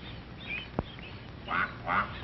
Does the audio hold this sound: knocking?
no